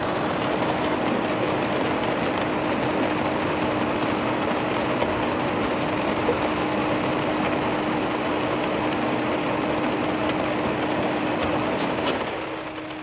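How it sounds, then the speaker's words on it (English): A CemenTech mixer runs steadily during a calibration run, a constant loud mechanical drone with a fixed hum that drops off sharply near the end as it stops. "So he'll run it to 130 counts and stop it"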